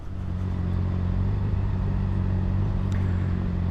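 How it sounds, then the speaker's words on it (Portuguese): A Honda Hornet motorcycle fitted with a LeoVince sports catalytic exhaust rumbles steadily at idle, a deep, even engine drone close by with no voices over it. "ficam só com o ronco da moto"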